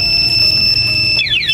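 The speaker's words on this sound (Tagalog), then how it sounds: "Pag nilock natin, mamamatay na, mag-alarm na po siya." A Senlo two-way motorcycle alarm installed on a Kawasaki Ninja 400 gives a loud steady electronic tone, then breaks into rapid sweeping warbles near the end.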